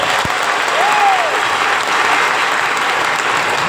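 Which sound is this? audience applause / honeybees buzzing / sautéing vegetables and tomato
audience applause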